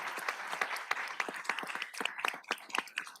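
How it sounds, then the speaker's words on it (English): A round of applause at a Redondo Beach city council meeting: many hands clapping steadily and fairly near for about three seconds, with no talking over it. "So have one more round of applause for Paula here."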